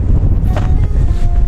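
Wind buffets the microphone in low, steady gusts with a rushing outdoor roar.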